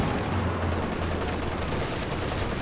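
A machine gun team fires in Company of Heroes 2, a dense rattle of rapid shots blending into continuous loud battlefield noise over a short stretch.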